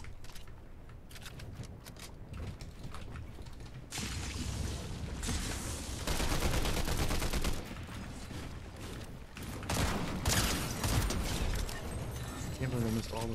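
Bursts of gunfire from a battle royale video game, dense cracks and rapid volleys over continuous loud game noise, with a voice talking throughout.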